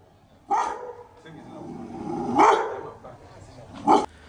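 Security dogs at a flooded compound bark three times in separate loud bursts, spaced about one and a half seconds apart, with a low murmur between them.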